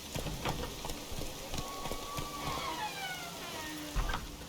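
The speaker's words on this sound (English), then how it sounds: "will it ever stop raining in this land?" Steady rain pattering in The Witcher 3, a dense even hiss with scattered drip taps and faint tonal game sounds behind it, no voices.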